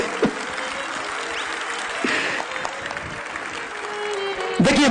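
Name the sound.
audience applause in a hall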